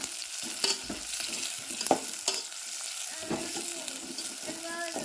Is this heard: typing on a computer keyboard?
no